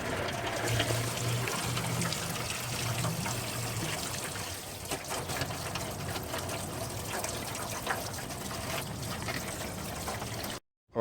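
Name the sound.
coolant draining from Honda Civic radiator into pan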